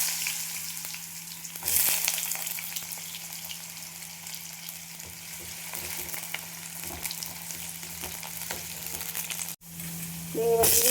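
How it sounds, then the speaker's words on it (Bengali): Potato and pointed gourd pieces fry in a pan of oil tempered with cumin seeds, giving a steady close sizzle with a few louder bursts of crackling and a steady low hum underneath. "আমি একটা আলু নিয়েছি, পটল নিয়েছি, এগুলো আগে ভেজে নেব"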